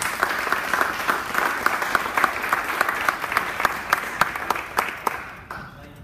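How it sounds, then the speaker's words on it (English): Steady audience applause at an alumni roadshow event at the B.B. King Museum in Indianola, with dense, even clapping across the whole stretch that fades slightly at the close. "Let's give him a round of applause."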